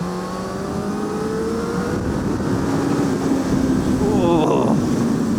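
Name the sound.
2021 Honda CB1000R Black Edition motorcycle engine revving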